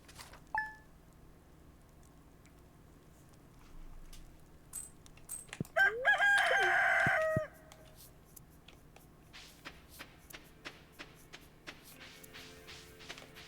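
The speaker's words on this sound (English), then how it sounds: "Okay, grumpy chickens, I don't need to look for eggs." Chickens clucking and squawking in a farming video game set in meadowlands, a short burst of loud clucks in the middle amid sparse faint clicks and quiet background.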